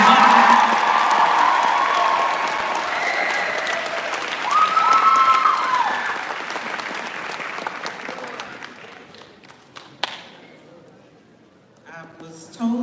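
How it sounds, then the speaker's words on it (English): A graduation audience at a Mount Clemens High School ceremony gives a loud round of applause with some cheering, the clapping fading gradually over several seconds before scattered claps return near the end. "Can we give one more round of applause for these amazing graduates?"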